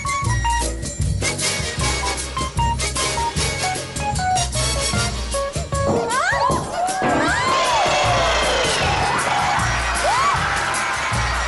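A magic show audience cheers, whoops and shouts loudly over upbeat stage music, with a dense crowd roar and rising whistles or shrieks filling the second half.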